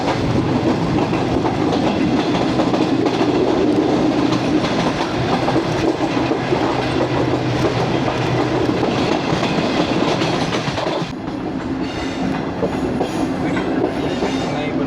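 A passenger train running on main line 1 between Lahore and Raiwind junctions, a loud, continuous rumble with rhythmic wheel clatter and rail noise heard from on board, easing slightly near the end.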